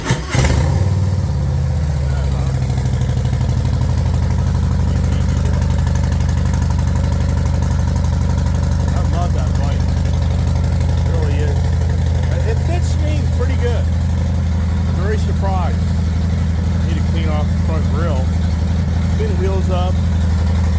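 A Harley-Davidson motorcycle engine idles loudly and steadily after a quick start, a deep rumbling throb held throughout, with a voice speaking intermittently over it.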